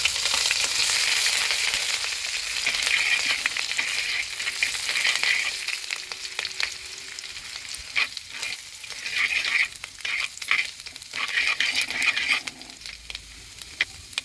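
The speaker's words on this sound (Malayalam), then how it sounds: "ഇഞ്ചി ഇട്ട് വഴറ്റിയതിന് ശേഷമാണ് ഉള്ളി, തക്കാളി ഇതെല്ലാം ഇടുന്നത്" Steady sizzle of ginger sautéing with fenugreek seeds in coconut oil in a pan, with occasional scraping and stirring clatter, close and continuous, no voices.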